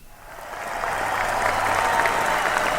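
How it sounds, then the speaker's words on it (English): Applause swells from quiet to a full, steady wash of clapping from a crowd, sustained and even through to the end. "An astounding round of applause for them"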